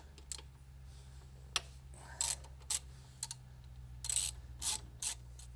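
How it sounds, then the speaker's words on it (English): Allen bolt being worked loose on the 2-into-1 exhaust of a Harley-Davidson V-Rod, a series of faint metallic clicks and short ratcheting bursts over a low steady hum, close by, with no talking. "now we're going to remove the second Allen bolt here"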